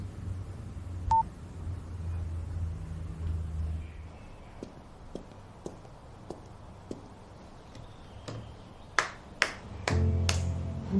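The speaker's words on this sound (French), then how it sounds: "Pourquoi tu m'applaudis?" One person claps by hand indoors, a handful of separate sharp claps spaced apart and then a quicker cluster near the end, alone against a quiet room with a low hum.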